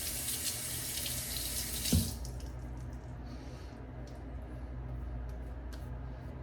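Water runs from a tap in a gushing stream for about two seconds, then cuts off with a soft thump, leaving faint drips and quiet room tone.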